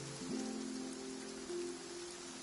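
Steady video-game rain falls in a continuous soft hiss, with a low held tone underneath and a brief sharp sound at the very end.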